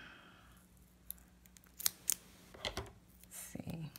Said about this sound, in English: If I can find my scissors, there we go. And I'm just going to cut some pieces out.